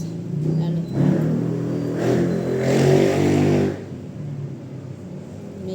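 Road traffic of cars and motorcycles drifts in through an open door and window, a whooshing vehicle pass swelling for a few seconds then fading, with faint indoor sounds and a soft murmur of voice.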